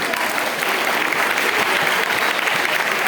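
Steady, dense applause from an audience at a school annual day celebration honouring chief guests, sustained and fairly loud throughout with no talk over it.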